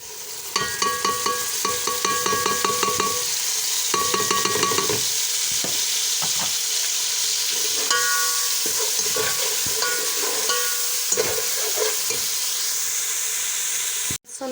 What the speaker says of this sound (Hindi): इसमें अब हम लहसुन अदरक का पेस्ट डालेंगे।